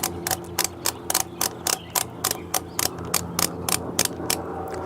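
A flat ratchet turns screws while a WeatherTech mudflap is fitted to a 2018 Chevrolet Silverado. It makes a brisk, even run of sharp, close clicks, one after another, with no voices.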